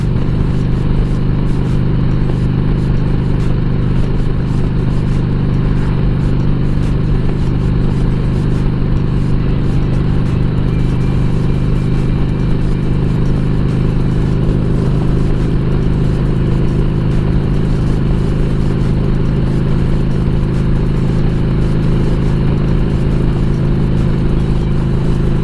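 A motorcycle being ridden, its engine droning loud and steady throughout with constant wind rush, no voices heard.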